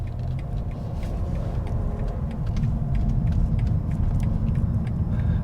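A 2020 BMW M550i V8 with active sound design switched off, idling with a deep, steady low rumble that thickens slightly partway through, heard close with no talking.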